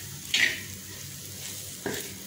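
Onions and chilli sautéing in a pan for a shallot curry: a soft steady sizzle with two brief scraping stirs, close and fairly quiet, no talking.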